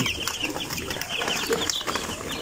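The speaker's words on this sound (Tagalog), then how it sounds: "At yan po ang ating sisiw." Broiler chicks on their second day cheep constantly in rapid, overlapping high peeps, a close and steady chorus of young birds with no talking.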